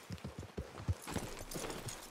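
Horse hooves in the Western video game Red Dead Redemption 2 clop in a quick, regular rhythm, a brief run of soft, close hoofbeats at a fairly low level without speech.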